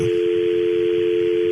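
A telephone keypad sends DTMF tones dialing star 67 to block caller ID on an outgoing call, a loud steady tone holding throughout with faint low clicks underneath.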